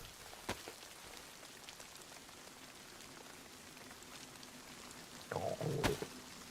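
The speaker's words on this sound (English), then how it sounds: "It's starting to rain." Rain begins falling in a DayZ game scene, a faint even patter that spreads quietly over the ground. Two sharp cracks break in, and a short rustling burst follows near the end.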